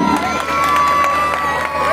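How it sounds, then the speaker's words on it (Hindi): A crowd at a gathering cheers and shouts in tribute to a speaker's late father, a brief loud burst of mixed voices and cheering with a sustained tonal note running through it. "तालियां होनी चाहिए"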